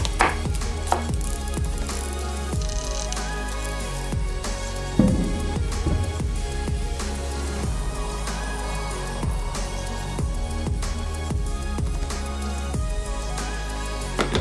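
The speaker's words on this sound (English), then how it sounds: "We're going to finely chop a garlic and add that into the veggies as well." A kitchen knife finely chopping garlic on a cutting board while making Philly cheese steak filling, giving a steady run of quick, close taps with no talking.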